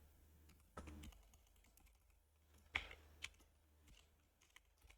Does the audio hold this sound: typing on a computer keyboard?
yes